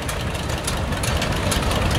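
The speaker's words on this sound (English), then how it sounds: "And then we have a 1947 John Deere H." A 1947 John Deere H tractor engine idles during a tractor parade at a steam and gas show, a steady, rough low rumble with a noisy wash and no talk.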